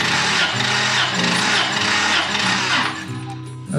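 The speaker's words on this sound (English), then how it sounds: "That was a couple good cranks." A 2000 Honda Passport engine cranks steadily on the starter during a compression test, a loud, continuous rhythmic churning that slows and drops off near the end.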